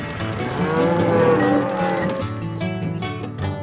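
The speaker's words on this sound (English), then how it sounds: "this cow gave birth a few days ago" A cow that recently gave birth lets out one long, loud, close moo on a family farm, with faint rustling and shuffling after it fades.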